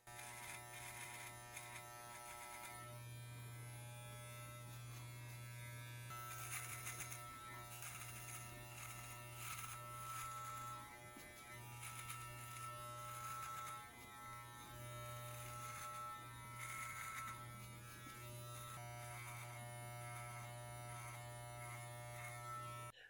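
An electric beard trimmer buzzes steadily along the corners of a beard below the jawline, a close continuous hum with small shifts in pitch as it moves.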